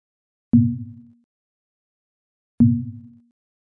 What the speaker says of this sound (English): When the drum is hit on the side,